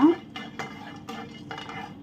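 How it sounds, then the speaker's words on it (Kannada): Cinnamon and cardamom tossed in a pan for biryani, heard as several distinct clinks and scrapes of a utensil against the pan with faint sizzling underneath, close and fairly loud. "ಚಕ್ಕೆ ಹಾಗೆಯೇ ಒಂದು ಐದಾರು ಇದು ಏಲಕ್ಕಿ ಎಲ್ಲವನ್ನು ಒಟ್ಟಿಗೆ ಹಾಕ್ಕೊಳ್ಳುವ ಚೂರು ಫ್ರೈ ಮಾಡಿಕೊಳ್ಳುವ"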